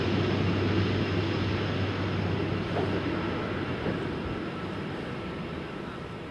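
A KLM airliner departs Amsterdam Schiphol's Polderbaan runway, and its engines give a steady, broad, distant roar. The roar holds nearly constant and fades slightly toward the end, with no talking.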